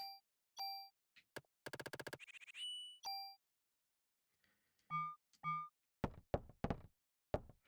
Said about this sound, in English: let's reload our weapon